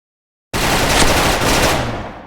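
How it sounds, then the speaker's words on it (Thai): Sustained automatic gunfire in a shooting video game, a loud, close continuous burst that starts abruptly after a moment of silence and keeps rattling without pause. "ดักยิงเลย มันโดดปาด มาใกล้แล้วยิง"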